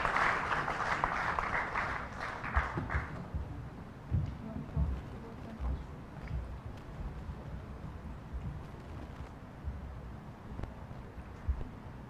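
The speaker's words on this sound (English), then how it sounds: "A huge round of applause for all of them." An audience at a corporate unveiling event gives a short burst of clapping that lasts about three seconds, then falls away into quiet room rustle and low background noise.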